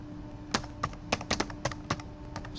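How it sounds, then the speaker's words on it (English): Typing on a computer keyboard in a quiet room, a run of quick, irregular key clicks close by with short pauses between bursts. "I have to look when I type."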